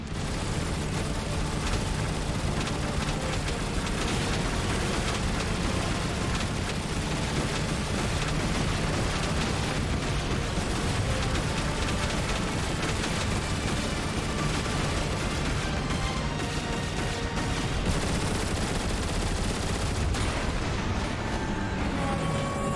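Dense, continuous gunfire and explosions in Transformers: War of Cybertron as Autobots focus fire on a ship, a relentless barrage of shots and blasts with no pause throughout.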